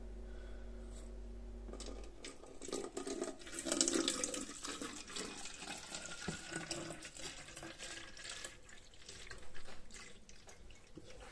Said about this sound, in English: I'll fill the water up and show you doing the sticks later